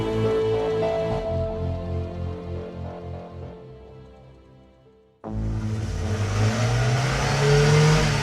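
A car engine pushed hard at its top speed, a steady mid-pitched drone with strong harmonics that fades somewhat before cutting abruptly to a loud, broad rushing roar for the last few seconds, with no talking.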